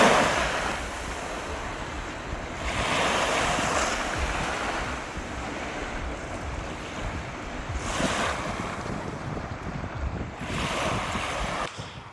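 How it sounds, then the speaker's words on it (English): Strong wind buffets the microphone over steady crashing surf on a volcanic beach in Cape Verde, with gusts swelling and easing in waves; no voices. "Very windy, but rather sublime and beautiful."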